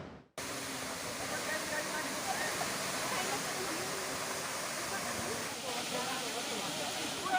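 The Mandi Angin waterfall in Lampung Utara roars as a constant broadband rush of falling water, loud and unbroken after a sharp start.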